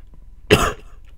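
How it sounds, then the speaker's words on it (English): A single sharp cough bursts out at close range in the middle of an otherwise quiet moment, brief and harsh with a rough throaty edge, and nobody speaks around it. "I really wish I'd stop coughing."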